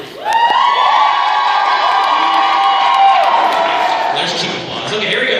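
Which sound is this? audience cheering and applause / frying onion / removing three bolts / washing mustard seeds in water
audience cheering and applause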